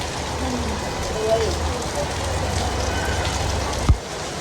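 Steady rain falls as an even, continuous hiss with a low rumble underneath, and a sharp knock comes near the end.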